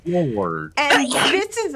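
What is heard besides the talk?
sneeze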